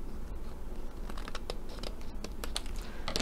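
Scissors snipping paper trim on a floral archway craft card, a few small, close cuts and rustles scattered over a steady low background, with no talk.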